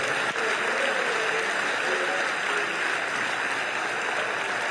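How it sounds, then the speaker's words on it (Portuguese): A church congregation gives warm applause to the Lord at a missions symposium, a continuous roar of many hands clapping close and even throughout, with faint voices blended into it. "Uma linda salva de palmas ao Senhor."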